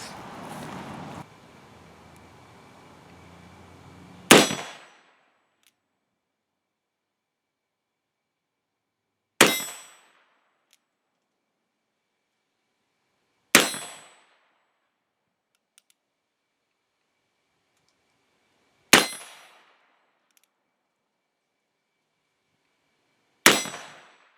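A Pietta 1861 Navy .36 snub nose revolver fires at steel targets: five sharp, loud shots spaced several seconds apart, each followed by a brief metallic ring.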